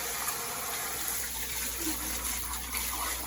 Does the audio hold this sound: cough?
no